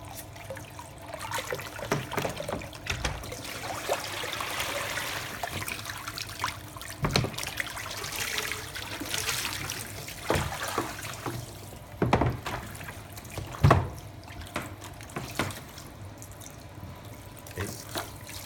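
Running tap water rinses a photographic print during bleaching for toning in a darkroom workshop, a steady close splash and trickle with brief louder gushes and faint background murmur.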